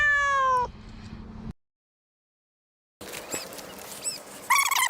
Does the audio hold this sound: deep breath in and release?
no